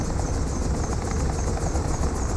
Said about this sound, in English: We've missed the helicopter!